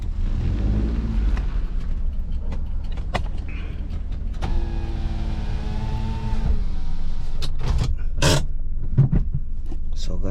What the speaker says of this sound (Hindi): अपनी गाड़ी को साइड कर लेते हैं।